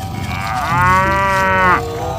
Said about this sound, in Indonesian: Yang ini ada sapi mo.